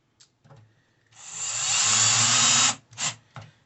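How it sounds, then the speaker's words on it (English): A power driver whirs for about a second and a half while sinking a screw into a pre-drilled hole during assembly of a Homefort 13 gallon unit, bracketed by short clicks and handling noises. "Just get your screw in there."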